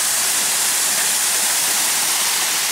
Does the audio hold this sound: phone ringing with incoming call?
no